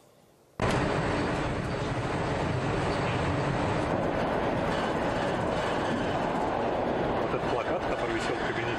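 Train travelling to Vladimir, heard from inside: a sudden onset into a dense, steady rolling roar of wheels and carriage that continues without a break.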